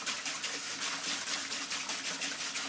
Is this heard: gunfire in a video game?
no